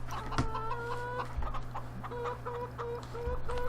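Chickens and a rooster on a Farming Simulator 15 farm cluck in a steady stream of short, repeated calls over a constant low hum, moderately close with no talking.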